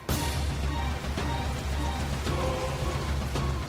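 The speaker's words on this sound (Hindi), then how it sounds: "बहुत तेज बारिश हो रही है।" Heavy rain pours down steadily, a dense hiss of drops on surfaces with a low rumbling undertone and occasional sharper splashes, continuous and fairly loud throughout.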